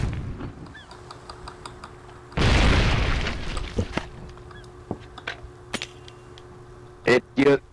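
A single heavy artillery blast in the war game Foxhole erupts as a loud, booming roar that tails off, followed by scattered pops and short honking bursts, with voices talking around it.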